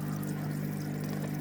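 An aquarium wave jet pump circulates water and pushes bubbles around a sump-filtered tank, producing a steady, close whooshing rush of moving water over a constant low motor hum, unbroken throughout.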